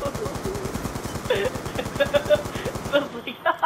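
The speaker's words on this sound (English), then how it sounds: "Why are you shooting bodies?" Rapid automatic gunfire from a video game, a dense stream of shots that run through the whole stretch under excited players' voices, with brief sharper bursts near the end.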